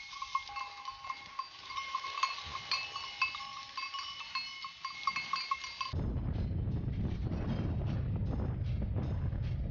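Clanking goat bells ring on and off over a low rumble in Greece, then wind buffets the microphone and the ringing fades under the noise.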